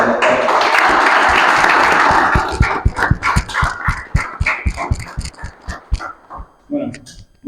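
A live audience applauds, starting as a dense wash of clapping that thins into scattered individual claps over several seconds and then fades out. Voices are mixed in with it.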